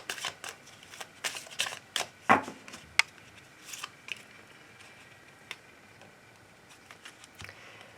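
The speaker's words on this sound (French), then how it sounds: "je vais prendre des petits messages avec l'oracle des amoureux pour terminer ce tirage" Oracle cards for a love reading are shuffled and drawn, giving a run of quick, close papery riffles and flicks with sharp snaps, busiest early and thinning into sparse taps, with no talking.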